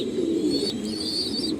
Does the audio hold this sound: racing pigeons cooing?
yes